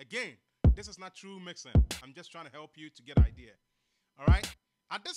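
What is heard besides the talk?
No distinct noise like a dog, phone or traffic.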